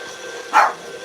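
One of four small dogs lets out a single short, sharp yip at moderate distance, standing alone against quiet background noise.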